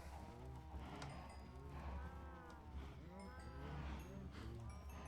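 A crowded pen of Minecraft cows mooing over and over, many overlapping low calls in a steady, dense chorus, close and continuous, with a voice talking faintly underneath.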